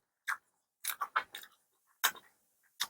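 Close, quiet chewing of a soft jelly candy, a handful of short wet squelches and smacks in uneven bursts separated by silence.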